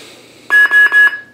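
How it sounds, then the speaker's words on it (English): Plecter Labs Pico Crumble lightsaber soundboard gives three quick electronic beeps in its menu, loud, close and evenly spaced in a rapid burst after a near-silent moment. "We gotta wait about 5 seconds, and you're gonna hear three beeps."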